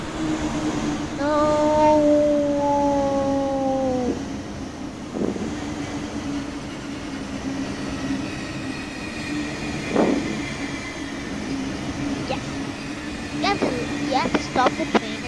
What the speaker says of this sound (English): Stop the train